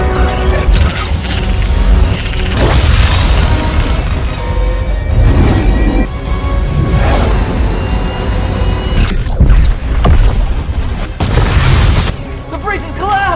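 In a film, the giant Gipsy robot self-destructs with heavy, repeated booms, crashes and deep rumbling blasts that roll on continuously at high volume.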